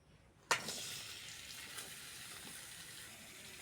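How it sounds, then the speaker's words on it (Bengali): Amla drops into hot mustard oil in a wok with a sharp splash, followed by a steady, soft sizzle and bubbling that carries on evenly. "আমলকির আচার করার জন্য কড়ার মধ্যে সরিষার তেল দিয়ে দেবো তেলের মধ্যে আমলকিটা দিয়ে দেবো"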